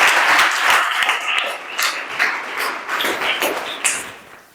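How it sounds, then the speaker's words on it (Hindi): An audience claps to welcome a child stepping up to speak at a public speaking class, a lively burst of applause that thins into scattered claps and taps, fairly close. "वेरी गुड, तालियों के साथ स्वागत करेंगे इनका।"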